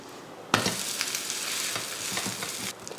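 Dosa batter cooking in oil or ghee on a hot pan sets off a sudden, close sizzle that holds steady at moderate loudness, then cuts off near the end, with no talking.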